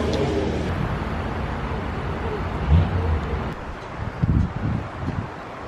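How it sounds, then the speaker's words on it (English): Wind blows outdoors on Oahu's North Shore, a steady rumbling buffet across the microphone with a few stronger low gusts toward the end, and no clear speech. "Like windy as."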